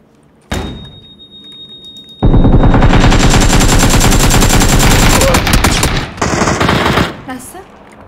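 Gunfire in a battle royale video game: a sharp shot, then a loud, sustained burst of rapid automatic fire that sputters out with a few trailing shots.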